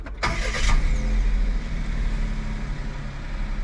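A 2022 Daihatsu HiJet Jumbo kei truck engine cranks and catches with a quick burst, then settles into a steady, close idle rumble with no talk over it.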